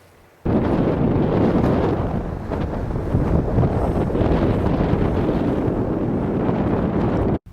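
Strong wind in Adak, Alaska, in the Aleutian Islands, buffets the microphone in a loud, continuous roar with low rumbling gusts, starting abruptly and holding steady throughout, no voices.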